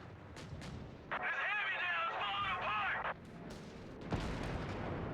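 Artillery bombardment in the Company of Heroes strategy game: booming blasts and shell impacts under a commentator's steady talk, with a sustained burst of battle noise in the middle.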